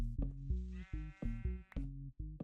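Sheep in the Minecraft video game bleat in a rapid run of loud, close, wavering cries, one after another, with short gaps and no other sound.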